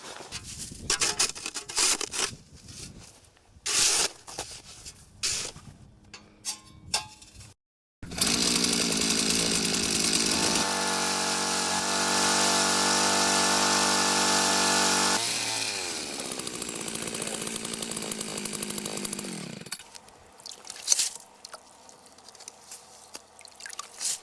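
A motorized ice auger roars steadily for several seconds as it bores fishing holes through lake ice, its engine holding a loud, even drone before winding down.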